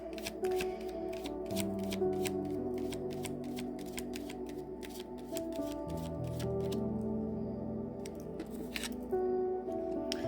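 Star Seed Oracle card deck being shuffled by hand, a steady run of crisp riffling and flicking card strokes up close over a soft sustained background tone, with no talking.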